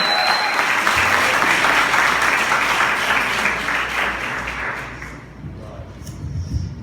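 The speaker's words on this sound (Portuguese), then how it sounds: "com uma forte salva de palmas" A church congregation gives a strong round of applause to Pastor Jarbas at a Wednesday evening service: loud, dense clapping that holds, then thins and fades over the last couple of seconds, leaving scattered claps and room noise.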